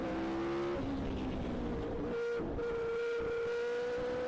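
A 1980s–90s Formula 1 car engine screams during an onboard lap at Spa, a loud, sustained high-pitched howl that shifts pitch through gear changes, with heavy wind rush mixed in.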